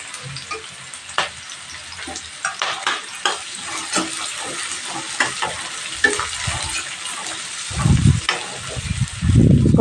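Onions, green chilies and curry leaves fry in a pan with a close, bubbling sizzle, broken by stirring clatter and a couple of louder bursts near the end.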